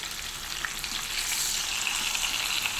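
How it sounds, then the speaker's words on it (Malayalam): Fish fries in a hot pan with a steady, loud crackling sizzle as it is turned over, the spattering continuing close and unbroken throughout. "മീൻ ഇവിടെ ഒരു സൈഡ് ഫ്രൈ ആയിട്ടാണ്, നമുക്ക് തിരിച്ചിടാം."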